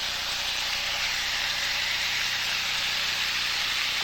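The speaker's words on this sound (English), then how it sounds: "Oh, listen to that sizzle." Swordfish sizzles on a hot George Foreman grill, giving a steady, even hiss of frying that stays constant and fairly close, with no talking.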